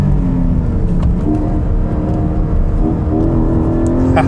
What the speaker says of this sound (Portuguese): Vai cortar? Cortou, ó, que sensacional.